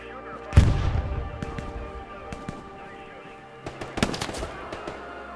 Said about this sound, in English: There's an MG shooting us at now.